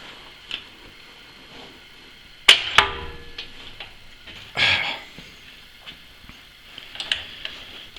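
Strap iron clamped against a stop and bent in a compact tube bender, giving a sharp metallic clank followed by a brief creaking strain and a few softer knocks, close and fairly quiet with no talking.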